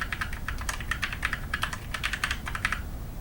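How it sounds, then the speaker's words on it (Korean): Rapid typing on a MAXTILL TRON G400K white mechanical keyboard with Outemu black switches, crisp close clacks in quick irregular bursts, heard alone. "맥스틸 트론 G400K 기계식 키보드의 타건 영상에 대해서 알아보겠는데요"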